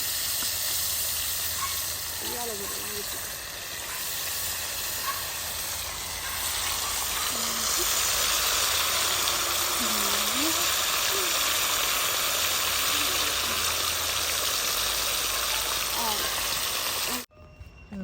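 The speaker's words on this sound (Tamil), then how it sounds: "எண்ணெய் கொதிச்சுட்டு நாங்கள் என்ன செய்ய போகிறோம்னு சொன்னால், மீனை பொரிக்க போகிறோம்." Steady broadband sizzling hiss of fish frying in hot oil, continuous and fairly loud throughout, with a few faint voices underneath, cutting off abruptly near the end.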